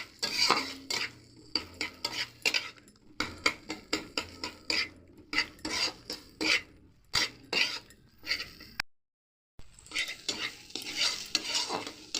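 Pointed gourd stuffing being fried and stirred in a pan, with a steady run of close scraping and clinking utensil strokes over a soft sizzle and a brief pause near the end, without any voices.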